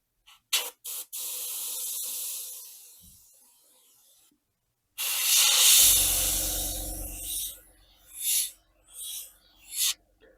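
An airbrush sprays paint onto an Airfix Halifax model in short and long hissing bursts, while its compressor adds a low steady hum in the later part. The sound is close by, with no speech.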